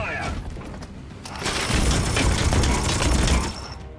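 Gunfire erupts in the turn-based game Warhammer 40k Chaos Gate Daemonhunters, a loud rattling volley of shots building into a dense burst of impacts, with lighter clatter leading in.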